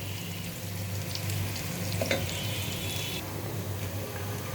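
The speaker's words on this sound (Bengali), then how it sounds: "পেঁয়াজটা একটু বাদামি করে ভাজবো" Onions sizzle steadily in a hot pan while being fried for bhuna khichuri, with a continuous crackling hiss and an occasional stir, no voices.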